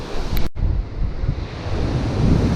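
Strong wind buffets the microphone on a bushwalk at Hanging Rock, a steady low rumbling gust with a brief dropout near the start.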